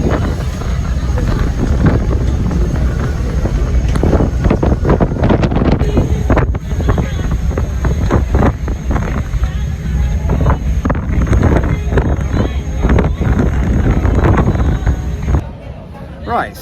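Heavy wind buffeting a microphone aboard a ferry at sea off Soyo, Angola, a continuous loud roar with gusty bursts and the boat's rumble underneath.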